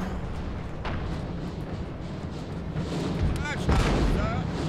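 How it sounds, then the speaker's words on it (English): Booming cannon fire rolls in the distance over a dense, noisy battle soundscape in the video game Napoleon: Total War, with a louder burst near the end. "their cannons are speaking"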